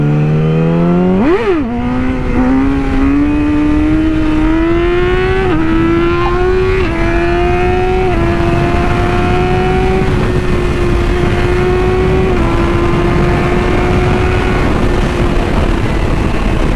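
A Yamaha R6 sport motorcycle on the highway, its engine revving loud and close, climbing through a gear change and then holding a steady high-pitched drone over constant wind roar.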